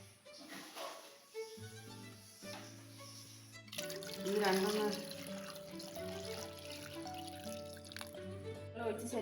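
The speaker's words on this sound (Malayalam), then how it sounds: "വെള്ളം ഒഴിച്ച് സെറ്റാക്കി വെച്ചിട്ടുണ്ട്" Water pours from a vessel into a pressure cooker holding chembu, a splashing, trickling stream that grows louder midway and then thins to drips, with a woman's brief speech over it and faint tonal background.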